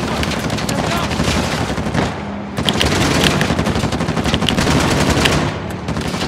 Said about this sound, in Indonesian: Tembak kemana, Chloe?